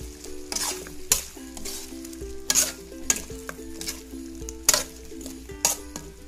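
Potatoes and carrots being stirred into a sizzling beef curry, a loud close frying hiss with repeated spoon scrapes and clinks against the pot, while a tonal melody plays underneath.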